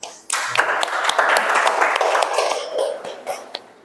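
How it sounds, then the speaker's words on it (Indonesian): A class of students claps hands together in a classroom during a maths lesson, a dense burst of overlapping sharp claps that runs steadily for nearly four seconds and then thins out toward the end. "Tepuk tangan."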